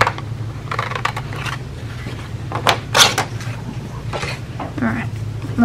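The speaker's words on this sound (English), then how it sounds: "Now I just cut straight across." Scissors cutting straight across fabric, a series of crisp, close snips and rustles spaced over a few seconds against a low background hum.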